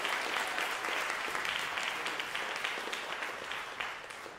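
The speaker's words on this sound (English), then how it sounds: "can we get another round of applause?" A church congregation on Easter Sunday gives another round of applause, quiet but distinct crisp hand clapping from a sizable room that fades gradually over a few seconds.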